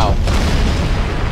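A building collapsing in Max Payne 3, a deep, loud rumbling roar of crumbling structure with booming low-end that fills the whole moment.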